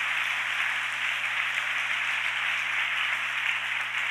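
A church congregation applauding during a sermon, a steady, even wash of clapping that holds at a constant level throughout with no voices over it.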